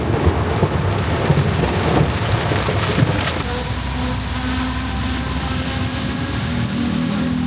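Enormous thunderstorm in Jakarta: heavy rain pours down in a loud, dense roar, with a deep rumble of thunder in the first few seconds before the downpour continues steadily.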